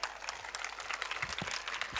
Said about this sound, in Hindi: Parents, give them a big round of applause.